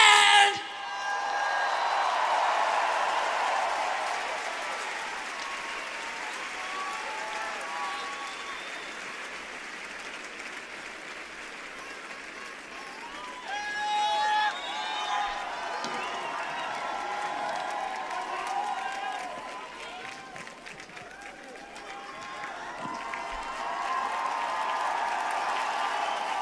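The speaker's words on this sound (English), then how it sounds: "Ladies and gentlemen, a round of my applause for my incredible, stellar, talented whipping band!" Concert audience at Bercy in Paris applauds and cheers for the band during the artRAVE show, a sustained wash of clapping and whoops from a large arena crowd that swells and fades across the clip.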